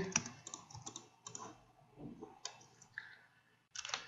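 Computer keyboard typing while a car porch is labelled on a 30 x 45 house plan: quick irregular bursts of close clicky keystrokes with short pauses between runs.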